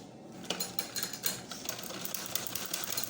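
A sewing machine stitches the curved baby collar of a frock, a quiet, rapid mechanical patter running continuously with small irregular knocks, close by and alone.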